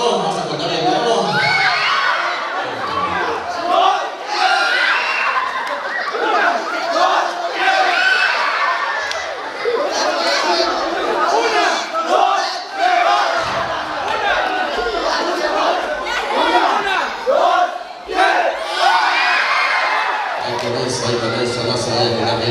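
Wedding guests in Xalitla, Guerrero, shouting a loud, sustained group cheer together, a dense crowd roar with whoops and cries running throughout with no pauses.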